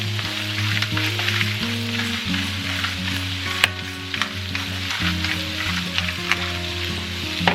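Cabbage fries in bacon drippings with a dense, continuous sizzle, loud and close, steady throughout with occasional stirring scrapes and a low hum underneath.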